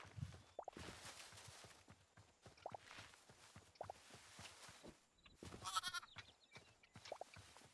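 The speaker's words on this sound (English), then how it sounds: "Baby goat, just like Minecraft." A baby goat in the video game Hytale bleats in a few short, wavering calls spread across the stretch, set against quiet game ambience with soft footstep-like thumps.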